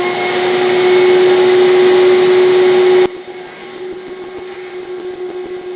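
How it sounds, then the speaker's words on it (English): A dust vacuum for a CNC router roars loudly and steadily, then cuts abruptly to a quieter running hum partway through, with no speech. "Fire up the vacuum."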